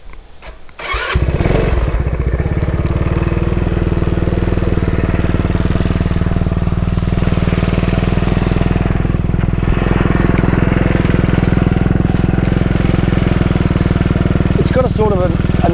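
A Hunter motor scooter engine starts after a brief moment and settles into a loud, steady, close-up idle, a continuous low throbbing drone that holds for the rest of the clip.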